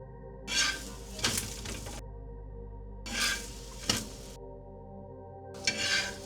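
Onion paratha fries in oil on a pan. Three separate bursts of close sizzling and spatula scraping are spaced by quieter gaps, with occasional light metal clinks.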